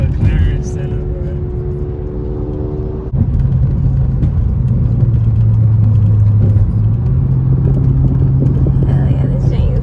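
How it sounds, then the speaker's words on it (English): A McLaren Senna engine idles with a loud, deep, steady hum that steps into a new pitch partway through, running under continuous nearby talk. "A freaking McLaren Senna"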